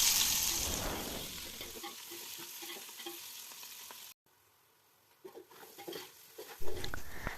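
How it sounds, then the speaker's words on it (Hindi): Two medium-sized onions lightly frying in cooking oil for a beef pulao, with a loud, dense sizzle at first that fades to quieter crackles and scattered pan sounds, a brief silence, then more clatter and sizzling. "2 मीडियम साइज़ की प्याज, उनको लाइट फ्राई करेंगे।"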